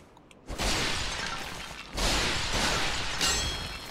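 Clay pots smashed in the Dark Souls video game, three loud, crunchy shattering crashes in quick succession, each with a gritty debris tail, and no talk over them.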